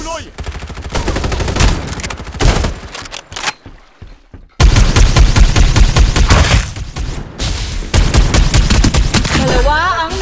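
Rapid bursts of automatic gunfire in the battle royale game Farlight 84 on the Lampton map, loud and close, rattling in long volleys with a brief lull before firing resumes.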